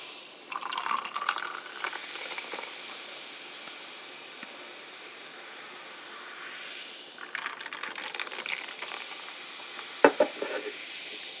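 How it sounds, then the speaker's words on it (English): PC Mandarin Orange Sparkling Water fizzes and splashes as it is poured into a glass, with soft intermittent trickles, faint crackling bubbles and a few small clinks near the end, all fairly quiet and close. "open up this PC Mandarin Orange Sparkling Water and you pour it into this glass"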